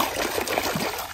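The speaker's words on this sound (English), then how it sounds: "Let's put the snake" Water sloshing and trickling in a tub as a toy snake is dropped in, a steady close splashy wash with a few soft plops and no talk.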